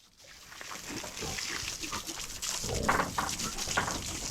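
Pigs on a pig farm make a busy run of grunts and squeals, close and fairly loud, mixed with general pen noise throughout.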